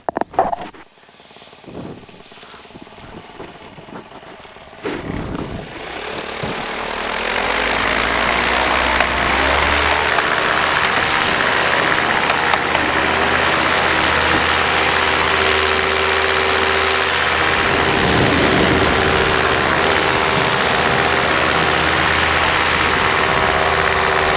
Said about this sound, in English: we'll be starting Paramotor and launching an X5